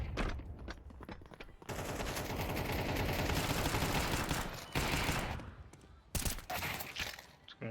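Dense gunfire rattles through a Counter-Strike match on the Nuke map, with sustained automatic bursts and a few separate sharp shots. Players' voices come through faintly beneath the shooting.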